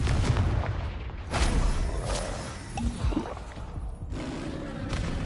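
Blasts from the Confringo explosion spell in Hogwarts Legacy land as repeated booms and whooshing bursts amid ongoing combat noise, loud and close.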